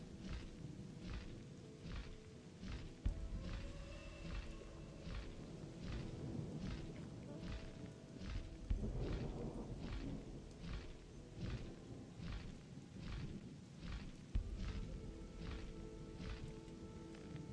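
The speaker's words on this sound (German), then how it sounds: "Hardest hitting spell ist aber wahrscheinlich wirklich Gewitter bei uns." A Gothic 2 thunderstorm spell (Gewitter) crackles over a steady rain-like hiss. Sharp electric snaps repeat about once a second, with a few heavier thumps, loud and close throughout.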